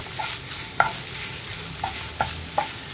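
Egg, chicken and onion are stirred together in a frying pan over a soft sizzle, with a few sharp scrapes and clacks of the spatula against the pan at irregular intervals.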